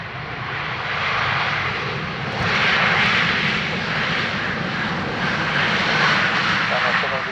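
An aircraft approaching Dublin Airport makes a continuous loud engine roar that rises a little and then holds steady over a broad rushing background.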